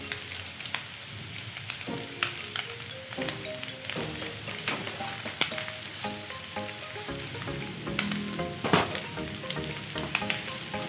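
Chicken bopis frying in a pan as oyster sauce goes in, a dense steady sizzle with scattered spatters and stirring scrapes throughout, close and fairly loud with no talk.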